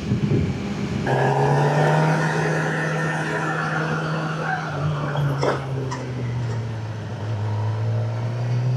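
A Suzuki GSX-R600 sport bike rides at speed, its engine holding a strong, steady drone that rises and dips slightly over rushing wind noise, heard from on board.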